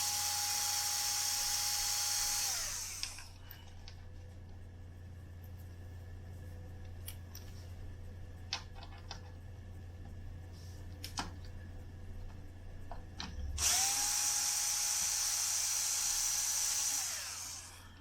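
Cabinet screws come out of a Lafayette RK-840 reel-to-reel deck with a powered screwdriver, two loud whirring bursts at the start and end around a stretch of faint clicks and handling noises.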